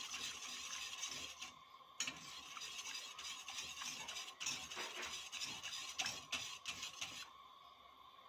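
Béchamel sauce for chicken negresco pasta is stirred in a pot, a close, continuous scraping and swishing with a regular rhythm of strokes and brief pauses, with no voices.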